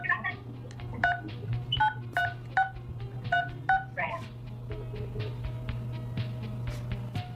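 Telephone keypad tones from a phone call, with a quick run of distinct beeps in uneven bursts over a steady low hum, followed by quieter line noise and faint voices.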